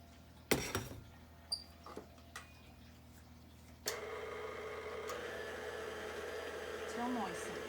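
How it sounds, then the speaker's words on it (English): A food processor blends a gluten-free brownie mixture: a few quiet clicks and knocks come first, then a steady whirring motor starts partway through and keeps running, fairly faint, to the end. "put that in here in the food processor and just blend it till it's moistened"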